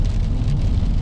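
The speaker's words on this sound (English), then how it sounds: "In the pouring rain." Heavy rain pours down around a truck in a brief, loud, dense wash of noise with a low rumble beneath it and no voices.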